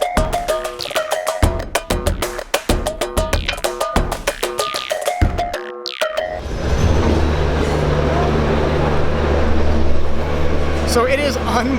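Crowded Mumbai commuter train on a hot day, with loud steady rumbling and rattling after several seconds of intermittent clatter and clanks, while people talk nearby throughout.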